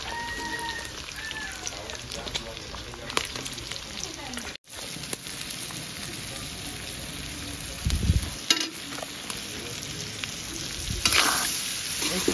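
Pork frying in oil in a pan sizzles with a steady crackling hiss, interrupted by stirring and scraping bursts, close and fairly loud with no talk.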